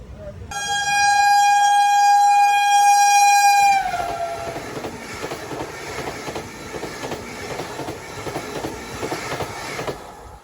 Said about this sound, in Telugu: కలాబుర్గి SMVT Bengaluru Vande Bharat express overtake చేసింది రాయచూర్ జంక్షన్ ముందు